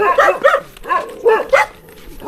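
A dog barks several times in quick, uneven bursts nearby, with some yippy, whimpering tones mixed in.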